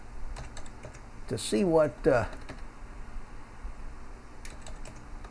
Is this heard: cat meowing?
no